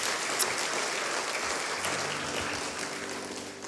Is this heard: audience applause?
yes